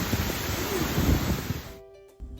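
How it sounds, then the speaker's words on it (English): Peguche waterfall in Ecuador roars as a loud, close, broadband wash of falling water for a couple of seconds before cutting off abruptly. "I would recommend actually going up to the waterfall as close as you can get"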